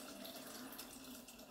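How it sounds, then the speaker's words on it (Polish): Water runs steadily into a Thermomix bowl, 700 g poured for a green cucumber cream soup, a continuous close splashing stream with no talk. "Do tego 700 g wody."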